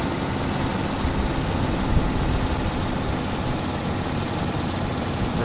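An air-cooled car engine labouring steadily as it climbs a long hill in the driving game The Long Drive, a loud, constant droning rumble with no break.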